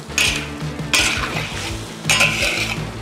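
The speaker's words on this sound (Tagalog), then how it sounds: "Deglaze natin ng red wine." Red wine poured into a hot pan after browning beef shank for a braise, giving three loud hissing, sizzling bursts about a second apart as a utensil scrapes and stirs against the pan between them.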